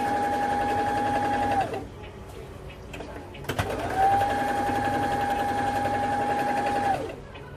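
Sewing machine stitching a small seam around the edge of fabric for a festive aromatic hanging bell, running in two steady bursts with a brief pause between, close and continuous.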